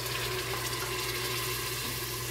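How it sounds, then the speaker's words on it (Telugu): Strained water from boiled tomatoes pouring steadily into a pot, six glasses' worth, a continuous splashing, running-water sound throughout with no voices. "6 గ్లాసులు టమాటా వడగట్టిన వాటర్ వేసుకోవాలి"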